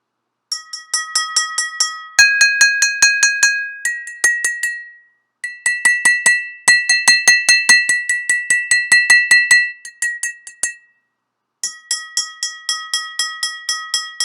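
Water-filled glasses are tapped like a xylophone in fast, steady runs of bright, bell-like clinks that shift between pitches, with brief pauses between phrases, close and clear.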